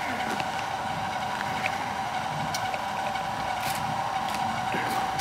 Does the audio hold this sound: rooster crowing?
no